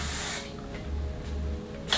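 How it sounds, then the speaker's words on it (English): Spray wax misted onto a synthetic wig from roots to ends, two breathy hissing bursts at the start and end with a quieter gap between. "with a spray wax, it goes all the way through, all the way to the roots of a wig"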